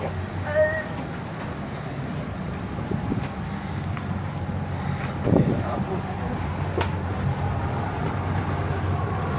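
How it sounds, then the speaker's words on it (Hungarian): A speedboat driven by two large Yamaha outboard motors totalling 500 horsepower leaves Thulusdhoo Island in the Maldives, its steady engine drone mixed with wind and water rush as a voice speaks. "Két ilyen szép nagy Yamaha motor hajtja. Összesen 500 lóerő."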